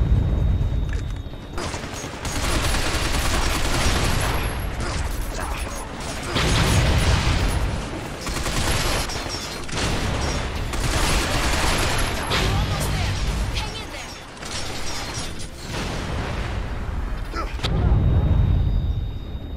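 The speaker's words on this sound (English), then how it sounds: "Maintain heavy fire." Heavy automatic gunfire and booming explosions rage in the Binary Domain video game battle, loud dense bursts nearly continuous with brief pauses, as a voice speaks over the combat.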